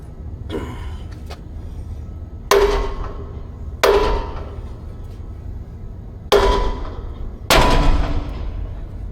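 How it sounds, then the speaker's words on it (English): A small hammer strikes a wheel on an old-school inboard brake setup to break the cleats loose: four loud, ringing metallic clangs spaced a second or two apart, each decaying slowly, with a fainter tap before them. "I'm gonna take my little hammer here and I'm gonna hit this wheel"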